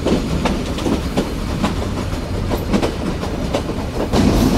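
The Sundarban Express, travelling from Dhaka to Khulna, rolls along at speed with a loud, steady rhythmic clickety-clack of wheels over rail joints and a constant rumble, heard from on board with no voices.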